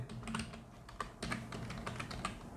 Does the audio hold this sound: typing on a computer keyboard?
yes